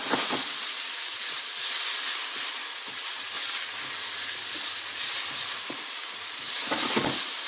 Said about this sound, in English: I'm going to stir fry them for about 3 to 4 minutes